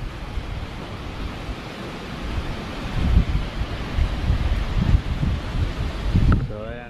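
Gusts of typhoon wind roar in Rizal, a dense rushing wash with heavier buffets pushing against the microphone, while a voice speaks over the wind.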